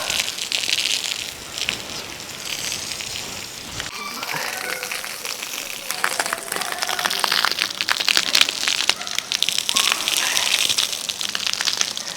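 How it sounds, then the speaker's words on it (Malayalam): Water falls like heavy rain into the open courtyard of a new house, a dense steady splashing and pattering that runs throughout, with a brief dip partway and some louder gushes later. "ഇത് ഒറിജിനൽ മഴയാണ് ഗൈസ്"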